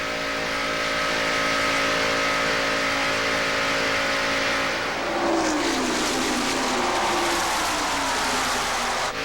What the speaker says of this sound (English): Inside Morgan Shepherd's car once again, the Citgo Ford Wood Brothers shop out of Stewart, Virginia